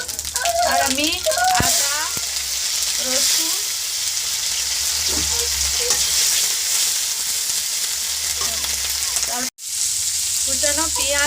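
Oil with a little sugar and green chilli fries loudly in a pan, a dense sizzling hiss with stirring, while voices talk over it near the start and end.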